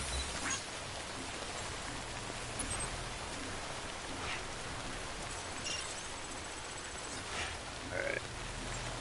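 Rain falls steadily in the Death Stranding video game on PS5, a continuous soft hiss that holds an even level throughout, with a few faint higher chirps on top and no talking.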